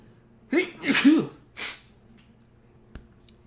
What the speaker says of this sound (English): Tried to sneeze away from the mic.